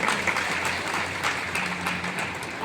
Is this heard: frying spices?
no